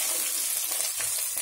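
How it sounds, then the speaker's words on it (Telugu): Tempering spices for Telugu horse gram curry sizzle and crackle steadily in hot oil, a close, dense frying hiss lasting throughout with no voices. "ఇప్పుడు మన పోపు వేగుతుంది కదా"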